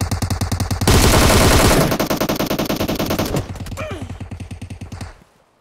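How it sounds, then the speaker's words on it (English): Heavy automatic gunfire in a PUBG Mobile gunfight, fast rhythmic bursts rattling near and loud for about five seconds, with a denser volley in the middle before the shooting cuts off. "Yeah, it's a gunfight."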